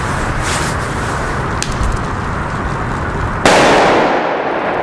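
A Funke Super Böller 2 firecracker explodes outdoors, a single sharp bang breaking out after a few seconds of steady background noise and then decaying, with no talking.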